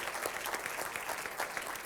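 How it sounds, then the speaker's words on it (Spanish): Applause from the audience at an Argentine education gala evening, a steady wash of many hands clapping with no gaps, moderately loud throughout. "un fuerte aplauso para todos nosotros, para Argentinos por la Educación"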